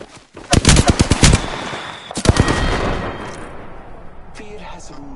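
Loud gunfire in the video game Apex Legends: a rapid burst of close shots, then a second shorter volley that rings out and decays, with faint game sounds trailing after.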